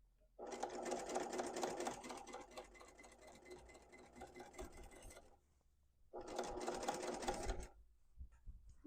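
A sewing machine runs in two bursts, a long steady stitching run and then a shorter one, stitching a quilted market tote, with its rapid needle clatter close and loud and a brief pause between runs.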